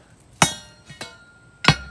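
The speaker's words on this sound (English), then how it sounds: "we'll hammer the bricks in, which will move the pipe the way we want." Hammer blows driving bricks in beside a basketball hoop pipe: three sharp, ringing metallic strikes, loud and close, the middle one lighter, spaced unevenly and heard without speech.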